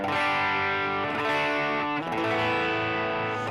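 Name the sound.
electric guitar through an MXR Sugar Drive overdrive pedal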